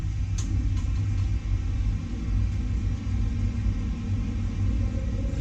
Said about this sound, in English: Now we have V1 rotate. Positive rate of climb, gear up.